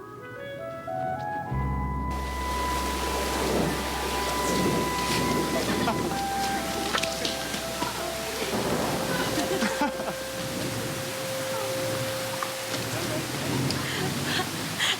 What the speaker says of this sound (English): Don't you want to wait till it stops raining?